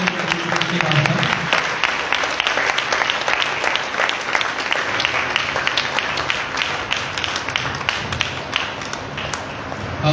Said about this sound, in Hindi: जोरदार ताली से वेलकम करेंगे दास का